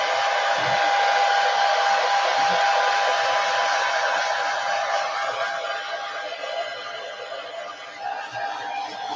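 A hair dryer runs steadily and loudly, blowing over a freshly inked gelli print layer to dry it, holding one continuous whooshing drone with a faint tonal whine throughout.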